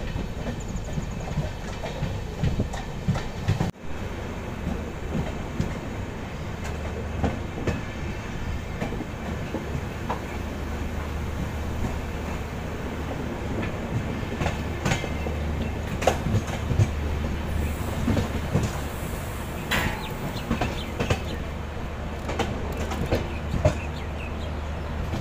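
An Udaipur City–Jaipur InterCity Express with LHB coaches running on rails, heard from inside a coach as a steady rumble with rhythmic clickety-clack of wheels over rail joints throughout, loud and continuous, with no talking.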